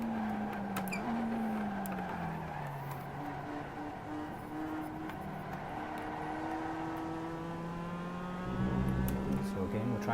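Simulated race car accelerating in iRacing, getting on the throttle before the apex and pulling down a straight. A steady engine tone climbs and shifts in pitch, continuous and fairly loud, with a voice talking over it.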